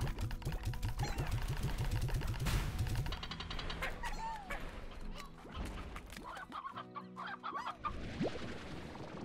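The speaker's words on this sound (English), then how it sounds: "Just coming from everywhere, these hens." A crowd of hens clucks busily and continuously in the video game Slime Rancher, with overlapping squawks and cackles close by and some faint game sounds in the background.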